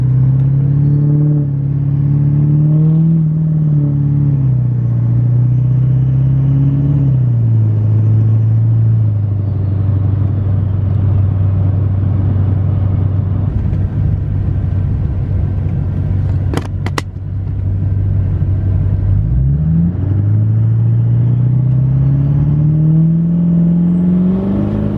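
A turbocharged car drones loudly and steadily, engine pitch rising, dipping, then climbing again as it accelerates and builds boost, with a brief sharp click near the middle and no talking.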